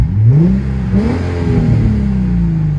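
Deep Nissan 350Z exhaust drone from inside the cabin. It revs up quickly, then settles into a steady, loud low rumble.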